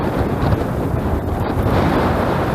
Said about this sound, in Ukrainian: Вітер просто ураган.